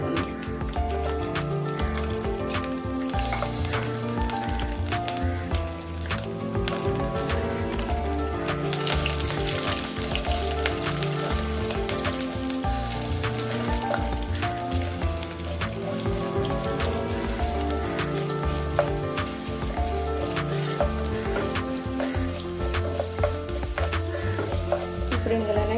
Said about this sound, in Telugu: ఫ్రై చేసుకుందాం.